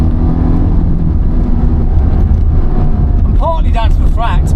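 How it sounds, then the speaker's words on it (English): A Ferrari F430's naturally aspirated V8 drones steadily from inside the cabin behind thin glass, a low continuous engine roar under someone talking, with a few short rising revs near the end. "aspirated V8 engine,"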